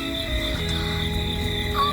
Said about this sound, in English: The loud chirp of the Katy did, Katy didn't, Katy did, Katy didn't.